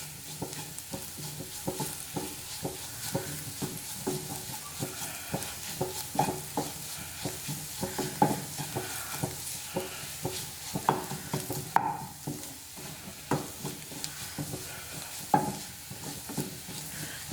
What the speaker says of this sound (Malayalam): ലോ ഫ്ലെയിമിൽ വെച്ചിട്ട് തന്നെ വഴറ്റിയെടുക്കാം കേട്ടോ